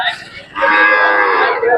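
A cow moos loudly at a cattle market in Sangola, Solapur, Maharashtra: a short lower call, then one long, strong, drawn-out moo close by, with no talk.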